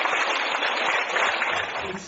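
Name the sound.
audience applause welcoming a guest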